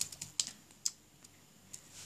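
Typing on a non-backlit gaming keyboard: sparse, irregular clicky keystrokes, close and crisp, about a dozen taps with a few sharper hits, in a quiet room.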